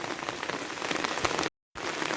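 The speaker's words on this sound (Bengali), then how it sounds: "এই যে এখন বৃষ্টি আবার বাড়তেছে" Heavy, continuous rain pours down during an all-day downpour in Dhobaura, a dense steady hiss of drops on surfaces, loud and close, with a brief dead-silent dropout near the end before it resumes.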